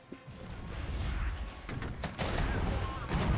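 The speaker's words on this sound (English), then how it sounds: "Let's use our artillery to take out those T-80s." Artillery fire against T-80 tanks in the modern war strategy game Regiments: a steady, rumbling barrage of booms and sharp cracks builds in loudness over a few seconds of continuous battle noise.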